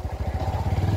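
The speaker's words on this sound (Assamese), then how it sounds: "of road bike" Close, loud off-road motorcycle engine chugging with a steady rapid pulsing rhythm, ridden along a rough off-road track beside a river at a Republic Day picnic crowd.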